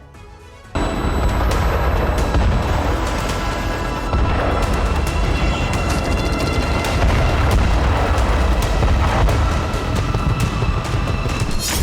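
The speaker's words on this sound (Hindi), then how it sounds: "जहां रूसी सेना ने यूक्रेनी सैन्य ठिकानों को रॉकेट लॉन्चर से हमला कर ध्वस्त कर दिया" Russian rocket launcher strikes hitting Ukrainian military positions in eastern Pokrovsk, heard as a loud, continuous barrage of booming blasts and rumbling fire with dense overlapping impacts, starting abruptly after a brief quiet moment and sustained throughout.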